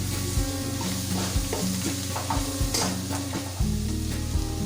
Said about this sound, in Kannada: ಈ ಟೈಮಲ್ಲಿ ಟೊಮೊಟೊ ಸಾಫ್ಟ್ ಆಗೋ ಥರ ಫ್ರೈ ಮಾಡ್ಕೊಳ್ಳೋಣ.